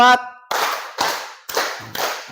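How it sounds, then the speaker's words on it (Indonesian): Group clapping a four-beat pattern in a class, crisp, loud, evenly spaced claps of many hands in unison, each followed by a short decay, with a brief voice heard just before the claps. "Kita coba tepuk 4."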